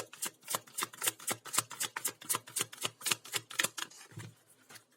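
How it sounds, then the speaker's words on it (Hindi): Tarot cards being shuffled by hand in rapid, rhythmic riffling bursts, crisp and close, about a dozen quick flutters in steady succession with no talking. "अगर आपको शफलिंग नहीं देखनी है कार्ड्स की, so you can always skip ahead."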